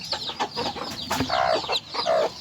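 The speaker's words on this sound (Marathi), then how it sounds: "बघा ही आहे आपली कोंबडी" Clucking from a desi village hen kept in the traditional rural way alongside her newly hatched chicks, a run of short close clucks with a few higher calls and no talk.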